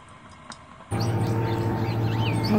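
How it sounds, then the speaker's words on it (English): Birds chirp and tweet in the background amid outdoor ambience, with small rising and falling calls after a sudden jump in noise level. "Listen to those birds."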